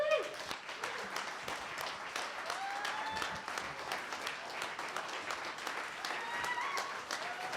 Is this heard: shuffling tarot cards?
no